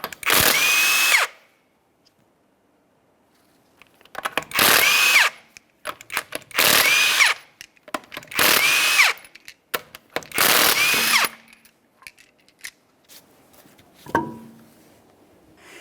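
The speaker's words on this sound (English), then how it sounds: "we're going to start by removing all 5 of our 19mm lug nuts" A power tool spins lug nuts off the wheel of a 2012–2015 Honda Civic 1.8L: five loud, close whirring bursts about a second long each, separated by quiet pauses, then a short clank at the end.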